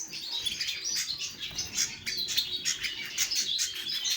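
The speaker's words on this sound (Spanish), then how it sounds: "Vamos a ver si tenemos suerte y me dejan los canarios, que se están volviendo un poco pesados." Many canaries chirp and tweet close by, perched on a bird breeder, a busy overlapping flock of bright calls with occasional wing flutters and no talking.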